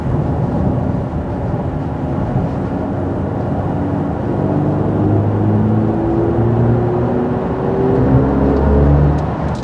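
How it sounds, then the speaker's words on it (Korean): A BMW i5 M60 dual-motor electric car accelerates with a steady low hum and a faint whine that rises gradually in pitch. The cabin noise is constant and loud. "밟으니까 이게 소리가 잘 들리는데 그 마치 내연기관의 그 왕 그런 소리랄까요?"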